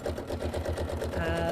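A sewing machine stitching free motion quilting with variegated thread, its needle pulsing in a fast steady rhythm, close and fairly loud with a low motor drone underneath.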